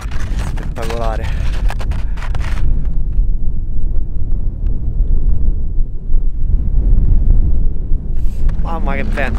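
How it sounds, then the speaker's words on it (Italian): Strong wind on a snowy mountain summit buffets the microphone with a constant low roar throughout; faint voices come through briefly at the start and end. "Mamma che vento."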